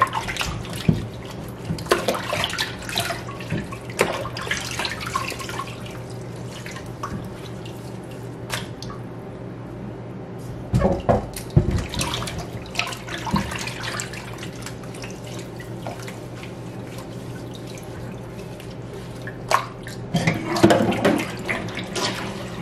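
Tap water runs steadily into a sink while butternut squash is washed by hand, a continuous splashing stream with drips and occasional louder splashes, close and alone without talk.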